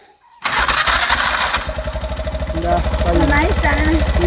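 An engine cranks and catches abruptly, then settles into a loud, steady, rapidly pulsing idle close by, with voices talking over it.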